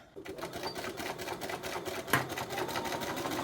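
A sewing machine stitches the elastic waist of trousers, a rapid steady mechanical chatter running through with a single sharp click midway.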